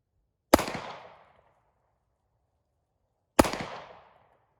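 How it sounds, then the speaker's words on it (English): Two loud pistol shots ring out at a shooting range, about three seconds apart, each a sharp crack with a short ringing tail and no talking in between. "We'll finish out this mag actually."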